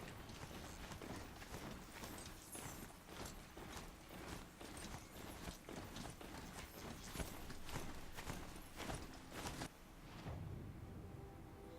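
A ridden robot mount in Horizon Zero Dawn strides along in a steady, rapid rhythm of metallic hoof-like thuds with a faint mechanical clatter, moderately loud, before fading out near the end.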